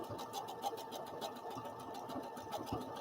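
A sewing machine runs steadily on a zigzag crosshatch stitch, number 57, its needle keeping a rapid, even mechanical rhythm close by, with no talking.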